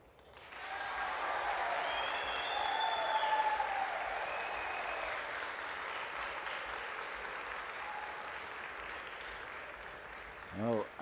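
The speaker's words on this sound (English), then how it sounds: "That big cheer was for Alain, who's halved the lead now" A large crowd bursts into loud cheering and applause at a pool championship match, the 8-ball world championship, swelling quickly and holding steady for several seconds before fading, with a brief voice near the end.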